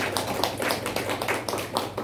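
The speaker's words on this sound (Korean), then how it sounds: "박수 한번 해주시기 바랍니다." A church congregation at a Korean Sunday service claps in encouragement, a brisk, rhythmic run of fairly close hand claps over a low steady hum.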